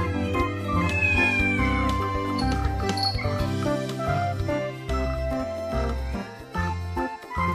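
A cat meows in a video game, set against dense, music-like game audio that runs steadily throughout.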